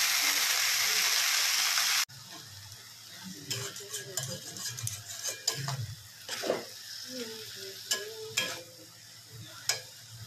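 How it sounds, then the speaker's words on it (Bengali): Leafy greens frying with onion and garlic in a wok, with a loud burst of sizzle up front, then softer frying broken by irregular scraping and clattering stirs of a spatula against the pan. "শাকটা ভাজা করবো, তাই জন্য শাকটা এবার এর মধ্যে দিয়ে দিই কড়াইতে"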